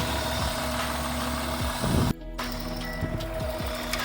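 A car engine idles steadily with a ticking noise from the top end of the motor, a rhythmic mechanical tick over a low hum, with a brief sharp interruption midway.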